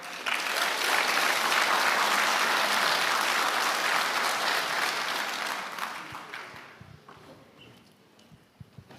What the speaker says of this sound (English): can we give Randy and RJ a big round of applause as they come up?